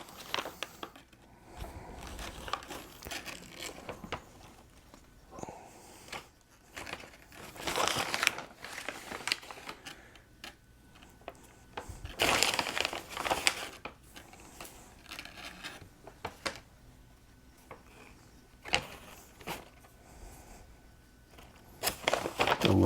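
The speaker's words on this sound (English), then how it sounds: "I love how all this plastic bag crinkling." A plastic bag crinkles and rustles in irregular bursts while a dumb cane plant is repotted, the handling sounds close, fairly quiet and broken by brief pauses.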